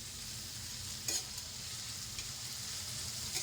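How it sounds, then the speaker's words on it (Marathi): Steady, fairly quiet sizzle of chopped vegetables and finely cut tomato sautéing in a pan for masala pav, with a couple of faint stirring clinks over continuous frying hiss. "सगळ्या भाज्या ज्या आहेत त्या आपण छान परतून घेऊया"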